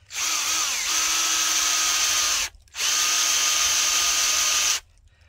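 A power drill bores a tap hole into a maple tree in two loud, close bursts of high whining motor with a short pause between, the pitch dipping as the bit bites into the wood.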